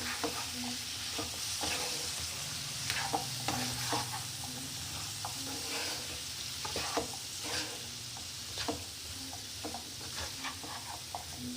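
Potatoes sautéing in a pan for a carrot and pea curry, with a steady broadband sizzle and repeated scraping, stirring knocks throughout, close and moderately loud.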